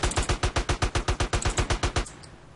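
Sniper rifle gunfire in the MTA video game: about fourteen sharp, evenly spaced shots in a rapid loud volley, then an abrupt stop, close up and with no talk.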